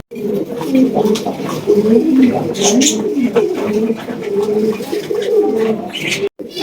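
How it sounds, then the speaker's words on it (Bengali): A pair of Yellow Tail Mark pigeons coo close by in repeated, wavering, throaty phrases, with soft rustles between them. "চমৎকার এক জোড়া ইয়েলো টেল মার্ক কবুতর দিয়ে শুরু করতেছি"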